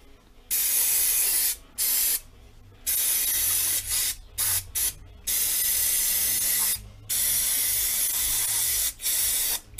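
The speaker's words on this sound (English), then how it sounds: "Give it another spray." An aerosol can of cleaner sprays in a series of hissing bursts, some long and some short, separated by brief pauses, while cleaning motorcycle carburetors on a Yamaha Fazer 1000.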